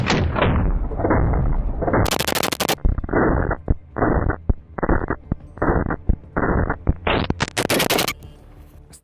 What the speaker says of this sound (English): And what if we shoot an automatic burst?